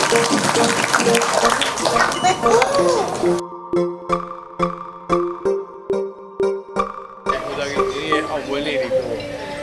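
Crowd applause bursts out in rhythmic clapping at an MD Skin Care Myanmar brand ambassador event, several loud claps repeating in a steady beat between stretches of talk and background music.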